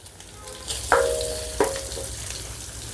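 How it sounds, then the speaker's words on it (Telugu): Ginger garlic paste sizzles steadily in a hot pan, with a couple of sharper scraping stirs breaking through a continuous close, moderate frying hiss. "ఈ అల్లం వెల్లుల్లి పేస్ట్ని పచ్చివాసన పోయేంత వరకు వేపుకుందాం"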